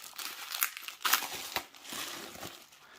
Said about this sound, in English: It comes in another plastic bag